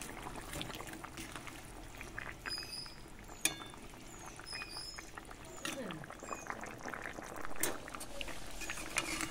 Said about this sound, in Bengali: এখানে ভেজে রাখা বোয়াল মাছ দিয়ে দিচ্ছি।